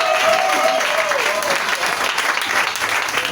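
A church congregation at an Ivorian church council gathering claps loudly and steadily, with a speaker's voice heard over the applause.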